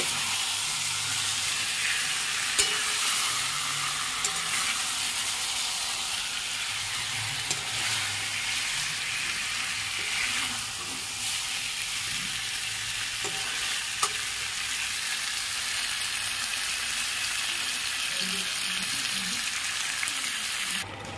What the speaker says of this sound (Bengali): এঁচড় আর আলু দিয়ে ভালো করে একটু কষিয়ে নেব।